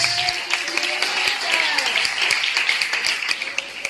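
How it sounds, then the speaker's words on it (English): Congregation clapping steadily through a Sunday church service, a dense patter of many hands under a voice speaking, with sustained crowd noise throughout. "Clap your hands unto Jesus."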